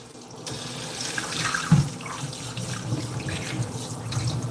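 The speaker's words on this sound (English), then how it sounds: "Then we'll wash it off with some water." Tap water runs steadily into a kitchen sink as pieces of beef steak are rinsed, with splashing and a brief thud as the meat is handled, close and continuous without talk.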